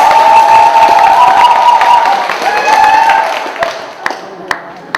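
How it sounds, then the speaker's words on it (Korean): An audience at a tea culture forum applauds, dense clapping that thins into a few scattered claps near the end, with faint voices and a musical tone beneath. "박수로 환영해 주시기 바랍니다."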